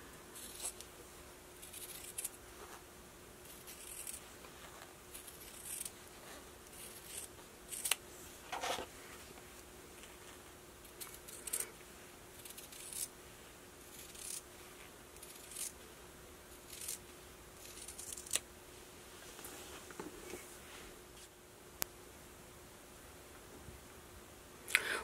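Scissors cutting out a traced face mask piece from fabric, giving repeated close snips and crisp clicks in an uneven rhythm, quiet, with no talking.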